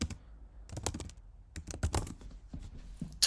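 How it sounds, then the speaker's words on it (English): Quick bursts of clicking keystrokes on a computer keyboard, close and fairly quiet, in an irregular rhythm with short pauses between runs of typing. "I'm just going to type it in to get straight to the point."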